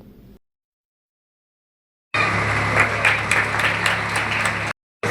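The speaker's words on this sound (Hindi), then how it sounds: "तालियां जोरदार बजनी चाहिए।" An audience in Varanasi breaks into a sustained burst of loud, dense applause lasting a few seconds, then stops abruptly.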